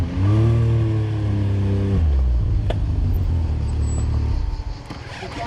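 A dirt motorcycle riding on sand roars close and loud, its engine revving high for about two seconds before dropping to a lower, rougher drone that fades near the end.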